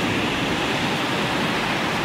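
Waves wash steadily onto Bang Bagan beach, a continuous near roar of surf with an even, unbroken wash throughout and no voices.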